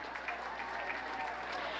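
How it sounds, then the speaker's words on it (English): Brief, steady applause from a gala audience honoring a performance piece, many hands clapping evenly at a moderate distance for under two seconds. "Please, a round of applause once again for the performance piece."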